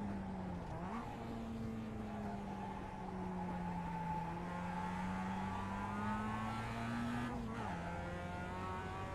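Mazda MX-5 accelerating around Tsukuba circuit in a racing video game, engine note rising steadily through the revs with brief dips at gear shifts, smooth and continuous, under occasional talk.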